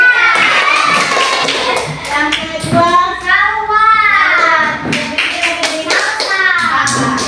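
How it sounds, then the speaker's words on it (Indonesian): Schoolchildren in a classroom clap in quick bursts, close and lively, mixed with a teacher's voice and children talking. "Tepuk tangan dulu."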